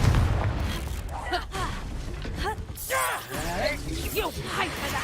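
A Confringo fire spell bursts in Hogwarts Legacy with booming blasts amid other game effects, while a voice shouts over the action.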